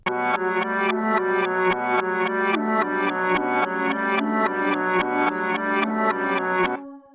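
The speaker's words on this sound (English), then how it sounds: "for the next sound, I'm gonna use this Atomic pad" A bright, distorted synth pad plays a steady repeating pattern of pulsing chords with a low bass line beneath, loud and continuous before fading at the end.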